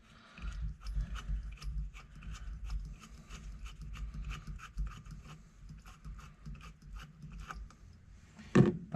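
A big 15/16 socket wrench is worked to break a stuck nut loose, giving a faint, close series of rhythmic ratcheting clicks and scrapes, ending in a sharper knock.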